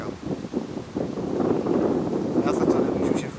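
A sharp, strong wind blows across the microphone in gusty surges that build and hold, with faint rustling and a bit of muffled talk.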